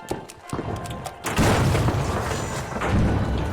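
Explosive detonating in the video game The Finals: a few light clicks and taps, then a loud booming blast with a sustained rumbling roar that lingers for a couple of seconds.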